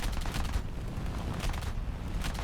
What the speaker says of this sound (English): I run out of cannon ammo, but I do get some pretty good hits with my machine guns.